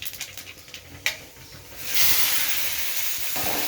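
Mustard seeds hitting hot oil, a few light crackles and pops at first, then a sudden loud sustained sizzle that carries on steadily, close up with no talking.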